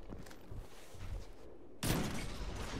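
Gunfire rings out in a 4v4 cross-platform video game tournament final, faint rattling shots giving way to a sudden louder burst near the end.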